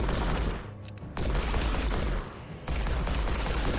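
Dense, continuous gunfire from Ash shooting enemies in the Evil Dead: Regeneration video game, loud, rapid shots blending into a near-constant roar with two brief dips in intensity, and no talking.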